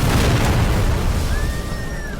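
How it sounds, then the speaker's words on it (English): A bomb blast in a crowd at a late-night celebration, a loud deep boom rumbling throughout and slowly fading, with a thin whistling tone rising in the second half. "An explosion rips through the crowd, killing and injuring innocent people."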